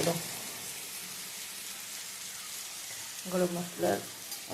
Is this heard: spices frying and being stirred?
yes